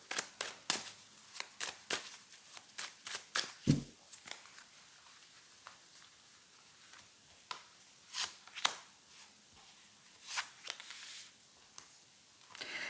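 Tarot cards shuffled by hand at close range: a series of soft, brief riffles and slaps with quiet gaps between them, low in level.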